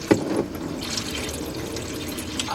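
Antifreeze drains from the engine of a 1977 Buick LeSabre with a steady watery splashing and trickling, close by, opening with a small knock.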